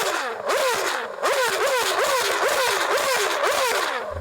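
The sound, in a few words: Formula One car naturally aspirated V8 engine revving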